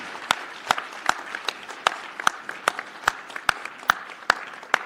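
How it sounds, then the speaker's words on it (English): Applause from a conference audience for the Junkyard team at a hacker convention, a moderate crowd clapping steadily with a few loud, sharp claps standing out at regular intervals. "can I get a round of applause for the Junkyard team who's making this happen?"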